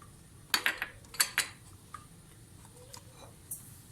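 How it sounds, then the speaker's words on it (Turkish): A spoon clinks and scrapes against a bowl in a few quick, irregular taps while stirring cornstarch into a cream puff filling, close by, followed by quieter knocks and a last light clink. "Karıştırıyoruz."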